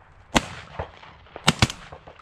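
Shotgun fire while hunting crows outdoors: three sharp, loud reports, a single crack followed about a second later by a quick pair, with quieter clatter and faint background noise between.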